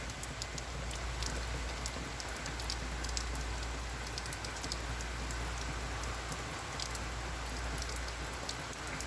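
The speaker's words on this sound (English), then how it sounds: "The rain's getting heavier, it's getting darker" Heavy rain storm pouring steadily, a dense, constant hiss of rain on surfaces with scattered drop patter, loud and unbroken throughout with no voices.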